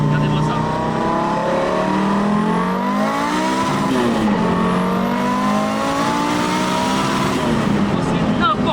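A 1000 hp Audi S2 five-cylinder accelerates hard through second and third gear, with a loud, close engine note rising, a gear change around the middle, then climbing again, while people talk over it.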